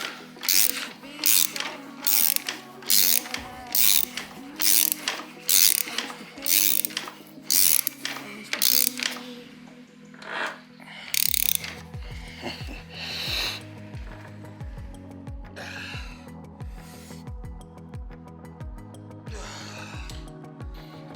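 KTM 790/890 Adventure sprocket bolts being tightened with a ratchet: a quick run of close, crisp clicking strokes, then slower, heavier mechanical clunks and rattles, with no talking.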